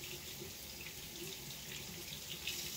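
Water from a kitchen faucet streams into a pot of broccoli being made into broccoli cheddar soup, an even, close, unbroken splashing pour.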